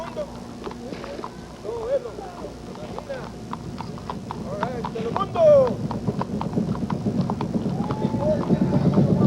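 Horses clip-clopping along a street in a rodeo parade in Tucson, a steady patter of hooves with an occasional whinny, heard under continuous commentary.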